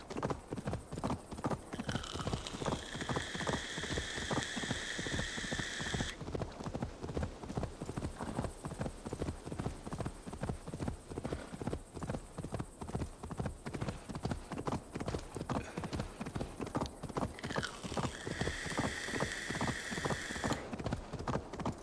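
Horse hooves clip-clopping in a fast, steady rhythm during riding in the video game Assassin's Creed Valhalla, loud and close throughout, with faint tonal game sounds in the background.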